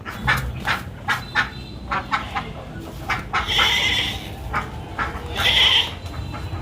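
Repeated nasal quacking calls from several ducks close by, in short bursts with brief gaps, a few louder honking cries standing out.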